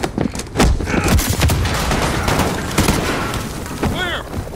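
Rapid gunfire bursts crackle through a Call of Duty Modern Warfare firefight, loud and close, with repeated sharp shots layered over a rumbling battle din and brief voices calling out.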